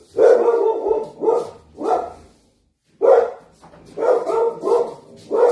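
A dog barks indoors as a delivery arrives, loud repeated barks in quick clusters with a short pause in the middle, close and dominant over everything else.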